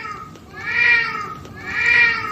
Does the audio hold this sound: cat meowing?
yes